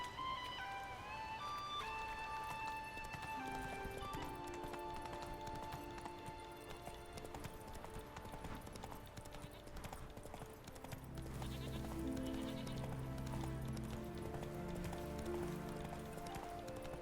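The horse Roach gallops in The Witcher video game, steady rhythmic hoofbeats running under game music and ambience throughout.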